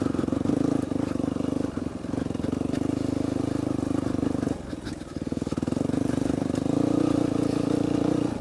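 A dirt motorcycle ridden through the woods holds a loud, steady engine drone close by, with a brief dip in the middle before it rises again.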